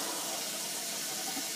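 Water runs steadily into a bathroom sink and down its drain during a drain repair, a continuous broadband wash with no breaks, fairly close.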